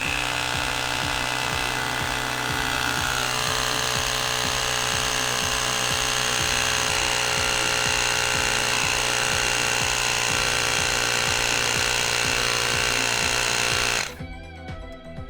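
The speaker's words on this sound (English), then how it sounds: "Attaching our pump to the valve stem, and go ahead and inflate." A hand or electric pump inflates the rear inner tube of a Razor Rambler 16 scooter to 35 psi, giving a loud, steady mechanical chugging drone with a fast repeating pulse that runs for about fourteen seconds and then stops abruptly.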